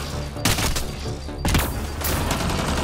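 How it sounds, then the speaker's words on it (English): In the video game Mass Effect Andromeda, gunfire rings out as loud, close bursts of rapid shots, one volley after another, in a heavy exchange of fire. "In the middle of a gunfight."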